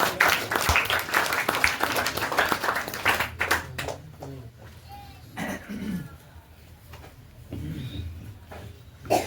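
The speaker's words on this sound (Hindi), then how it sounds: "जोरदार तालियां हो जाए।" Audience applause at a charity general-knowledge competition event in Ranchi, a burst of clapping in the first few seconds that fades into a quieter hall with coughs, scattered voices and murmuring.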